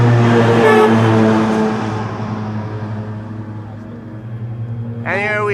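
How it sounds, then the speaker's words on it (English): An airport fire truck rumbles past at Amsterdam Schiphol, its engine swelling loud and then fading away, with a voice talking over it and a rising whine near the end. "Fire truck number 2."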